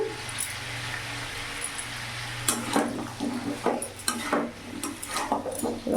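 Pumpkin, green peas and ground cumin and chili being stirred in a pan, a spoon scraping and knocking against the metal in repeated bursts over a steady low hum, faint sizzling beneath, no talk.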